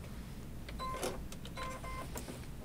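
An embroidery machine sews a zigzag stitch on an in-the-hoop Valentine placemat, giving faint, quick mechanical whirs and ticks in short bursts.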